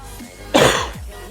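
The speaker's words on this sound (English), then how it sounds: "Still coughing a little." A single harsh cough bursts out close to the microphone from a player who is a bit sick, loud and brief, then fades into quiet room tone.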